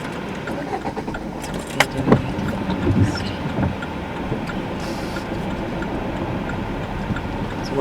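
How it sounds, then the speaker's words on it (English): Car engine running while driving, a steady low rumble with road noise and a few bumps and knocks, with brief talk from people inside the car. "So we turn the engine back on."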